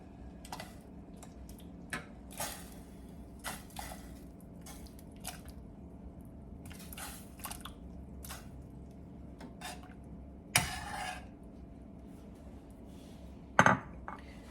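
Cubes of tofu go into a pot of dashi wakame miso soup over a medium flame, with quiet soft plops and light clinks against the pot scattered through a low background, plus two sharper knocks near the end.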